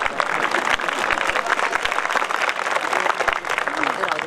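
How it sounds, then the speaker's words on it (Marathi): An audience applauds at a political speech in Chalisgaon, a loud, steady patter of many hands clapping close by that carries on without a break, with voices faintly mixed in. "आता टाळ्या करू"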